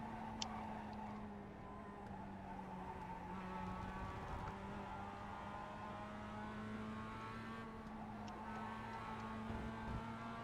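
Mazda MX-5 race car engine in the iRacing Global Mazda MX-5 Fanatec Cup at Rudskogen, a steady droning hum held at near-constant pitch as the car is backed off into a corner, with no talk over it.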